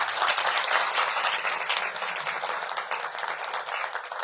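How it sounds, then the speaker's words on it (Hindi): Enthusiastic applause for Neha Didi at a morning program, a dense sustained burst of many hands clapping, loudest at the start and gradually easing while staying strong to the end. "एक बार नेहा दीदी के लिए जोर से ताली बजाओ"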